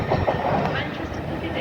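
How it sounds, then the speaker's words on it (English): Five-coach train 802301 pulls out of Doncaster station bound for Beverley, its steady rolling rumble and wheel noise continuous and fairly close, with a person talking over it throughout. "802301, Amy Johnson, leaving to Hull, she's leaving to Beverley actually, and yep, 5 coaches"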